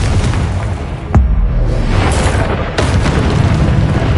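Confringo spell in Hogwarts Legacy: a sustained, rumbling blast with a sharp crack near the middle and a further burst later, all loud and dense throughout.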